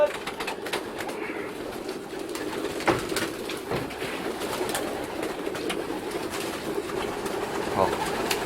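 Young racing pigeons cooing softly in low, repeated murmurs at feeding time after a flight, over a steady background hum, with scattered wing flutters and small bumps throughout.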